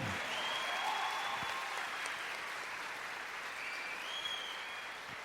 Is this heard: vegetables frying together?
no